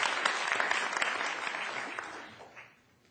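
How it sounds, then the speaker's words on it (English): An audience at a law competition finals awards ceremony gives a dense round of applause that stays full for a couple of seconds, then thins and fades out. "So we'll applaud for him, though he's not here"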